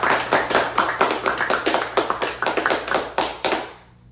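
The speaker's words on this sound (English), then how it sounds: "Round of applause to them." Rhythmic clapping from a small group, close and loud, steady beats that stop abruptly after a few seconds.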